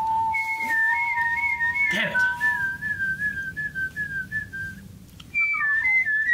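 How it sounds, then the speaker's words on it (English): One person whistles two clear tones at once in sustained pitches, steady and close, with a brief swoop at the end; a voice briefly speaks midway. "I don't know how to teach you the whistle."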